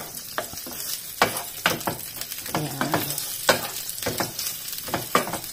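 Fermented mustard greens frying in a pan give a constant sizzle broken by repeated stirring strokes and scrapes, close and fairly loud with no talking.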